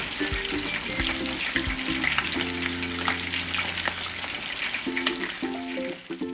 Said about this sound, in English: we are gonna start by frying the meat.